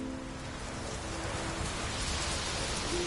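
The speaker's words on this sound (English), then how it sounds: "Raining fucking buckets." Heavy rain in Witcher 3: Death March, a dense steady downpour hissing evenly and continuously, fairly loud and close with a faint low tone underneath and no voices.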